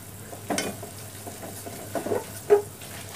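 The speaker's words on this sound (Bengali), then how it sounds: "অনবরত নাড়তে হবে।" Caramel stirred constantly in a pan for sweet curd, heard as a faint low sizzle with a few soft scraping strokes of the spoon and one sharper clink near the end.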